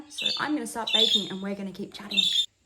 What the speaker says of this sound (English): you can probably hear my bird going off in the background